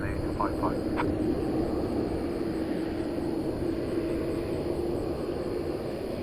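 A Korean Air jet airliner rolls for takeoff on runway 18 left at a busy airport, giving a steady broadband engine roar at a distance, with radio chatter and speech over it.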